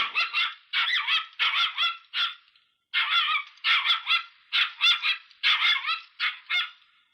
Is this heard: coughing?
no